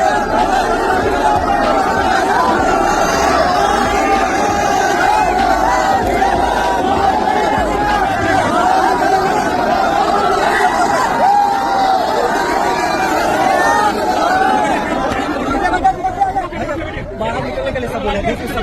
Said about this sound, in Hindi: भैया के चुनाव में कितना भीड़ है यार,